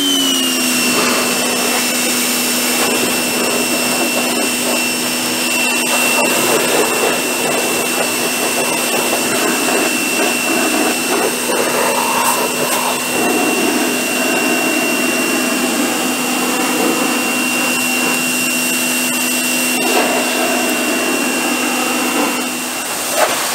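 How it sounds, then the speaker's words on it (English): An electric pressure washer runs loud and close in a steady, unbroken roar with a high whine, holding constant throughout without any talk. "It's another cool thing about electric pressure washers."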